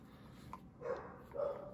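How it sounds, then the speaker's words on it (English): Faint dog barks, two soft muffled woofs from another room, over a low background hum. "Now my dog's barking."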